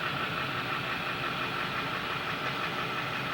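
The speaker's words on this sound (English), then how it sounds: "He's got his rattling Duramax out there." A Duramax diesel truck with a rattling engine idles outside, a steady broadband rumble and clatter holding at an even level throughout with no talk.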